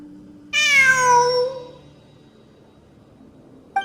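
A cat meows once in a video game, a loud, clear, drawn-out call with a falling pitch, fading into quiet game ambience before a short sound at the very end.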